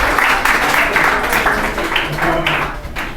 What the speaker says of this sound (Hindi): तो तालियां हो जाए थोड़ी बहुत।